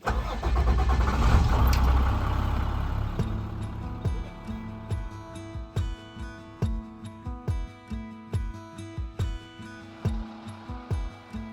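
A heavy 23,000-pound converted bus engine cranks, catches and roars, then settles into a loud, steady diesel idle with a regular rhythmic chug, close by and with no voices.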